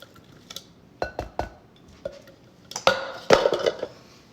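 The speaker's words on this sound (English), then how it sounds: "And I'll add the 20 Sugar Rush peach peppers to" Sugar Rush peach peppers dropped into a bowl, a series of loud close clinks and knocks in uneven bursts with brief rattles between, no talking.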